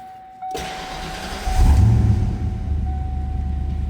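A 1992 Ford Mustang LX convertible cranks briefly and fires up, settling into a steady, close low idle rumble while a thin electronic door chime tone rings throughout.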